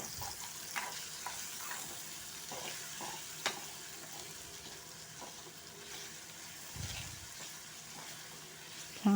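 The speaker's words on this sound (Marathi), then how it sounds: "छान तळत आहेत टमाटे" Tomatoes with salt, garlic-ginger paste and turmeric frying in a pan, a soft continuous sizzle with scattered stirring clinks and scrapes, fairly quiet and close.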